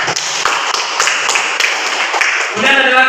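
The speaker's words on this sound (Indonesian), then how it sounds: "tepuk tangan dulu untuk Padan" A classroom of students claps loudly and quickly to praise a classmate, a dense burst of close hand claps that gives way near the end to a brief tonal voice-like sound.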